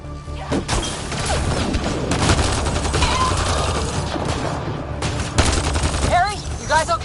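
Heavy combat gunfire in Mass Effect: Andromeda: rapid overlapping weapon bursts with crashes and booms, loud and continuous, with shouted game dialogue over it and warbling alien cries near the end.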